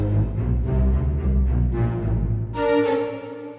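Orchestral comedy score with flute and clarinet doubling the high strings over low cellos and basses, a bouncy phrase of detached notes followed by a brighter sustained chord, full and close.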